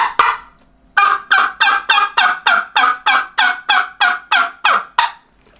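A double-reed latex diaphragm call imitating a wild turkey gobble: one short yelp, then a rapid run of about a dozen loud, even, rattling notes, close and with no other sound.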